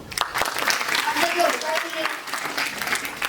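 An audience in a pharmacology lecture hall claps together, a steady, even patter of applause filling the whole stretch at moderate loudness, close and without speech.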